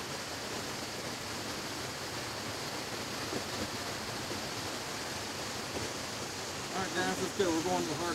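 Steady rushing water roars continuously from a nearby artificial waterfall, with faint voices briefly rising near the end.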